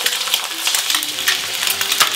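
Eggs fry in melted butter in a pan, giving a steady, close crackling sizzle with scattered sharper pops throughout.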